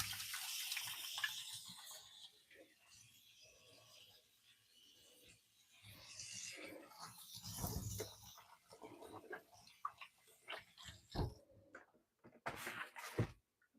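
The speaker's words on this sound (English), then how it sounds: "Always wash your hands first." Water running from a kitchen tap while hands are washed and rubbed under it, a faint steady flow with splashing and friction, then clattering handling noises toward the end.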